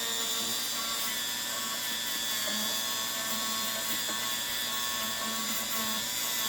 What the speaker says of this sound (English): So I'm gonna go ahead. I'm gonna polish this.